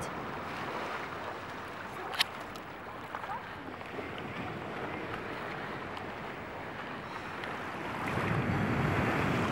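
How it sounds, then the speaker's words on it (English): Ocean waves washing ashore at Launiupoko beach on Maui at high tide, a steady broadband surf roar with wind noise that swells louder near the end, while a faint voice is heard briefly. "We're at the beach. We're at Launiupoko."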